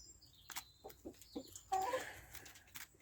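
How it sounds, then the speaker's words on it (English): Chickens and cockerels cluck in short scattered bursts, with a louder flurry of clucking partway through and faint rustling around them, fairly close. "look here, the cockerels come in."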